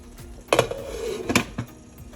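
Metal pot lid clanking onto a cooking pot of collard greens with smoked turkey, two distinct clattering impacts with a short ringing scrape between, close and clear, no talk.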